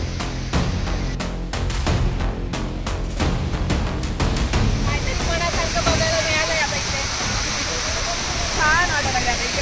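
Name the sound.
waterfall in Matheran during monsoon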